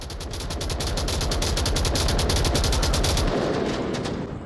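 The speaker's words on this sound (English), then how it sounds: "More shots coming out from Kato" Rapid bursts of automatic gunfire from an M249 and other weapons in a competitive esports shooter match, a dense rattling volley lasting a few seconds before cutting off, loud and close.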